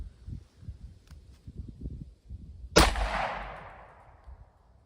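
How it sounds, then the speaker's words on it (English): A single sharp 9mm gunshot from a Taurus GX4 pistol fired outdoors toward aspen trees, a loud crack with a decaying echo tail after quiet rustling. "Get the same distance back and shoot up those aspen trees."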